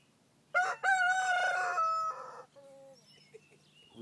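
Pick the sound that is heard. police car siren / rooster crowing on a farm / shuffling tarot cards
rooster crowing on a farm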